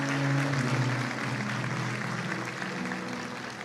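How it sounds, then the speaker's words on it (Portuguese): A church congregation claps together in a dense, steady burst of applause that fades slightly over a few seconds, with no voices on top. "Quem acredita, aplauda Jesus bem forte"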